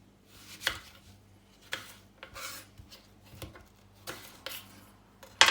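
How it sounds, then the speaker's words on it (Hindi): Onions for chicken biryani are chopped with a knife on a board, making sharp, separate taps in an uneven rhythm, fairly quiet and close, with a louder cluster of quick cuts at the end. "कटिंग स्टार्ट करते हैं प्याज से"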